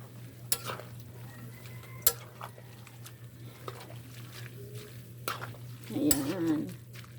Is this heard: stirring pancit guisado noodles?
yes